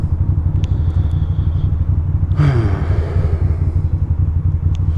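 A motorcycle rides along a chilly, wet road, its engine a steady low rumble close by, with a brief passing whoosh and wet hiss midway through.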